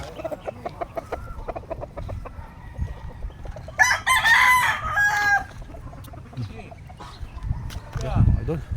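Fighting roosters on a gamefowl farm crow loudly and nearby, one long crow standing out among clucks and scattered calls, while someone talks over much of it.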